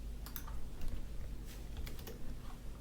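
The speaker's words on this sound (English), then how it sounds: "I'm not typing right today." Quiet typing on a computer keyboard, with scattered light key clicks in a loose, uneven rhythm over a low steady hum, heard up close and without voices.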